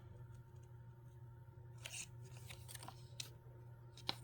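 Scissors cut through paper in a few faint, scattered snips and rustles over a steady low hum, quiet and close.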